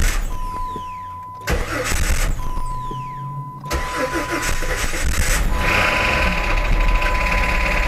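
A Jeep 4.0L engine cranks with a starter whine, catches and stalls, then cranks again and settles into a loud, rough, clattery idle that keeps running up close until the oil pressure comes up.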